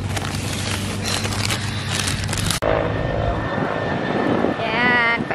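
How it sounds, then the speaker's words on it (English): A steady helicopter engine drone with rotor throbbing overhead as it circles, fairly loud and continuous, briefly cut off midway, with people talking faintly underneath, in New South Wales. "paikot-ikot lang ang helicopter dito"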